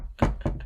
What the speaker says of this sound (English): knock on my fucking bed frame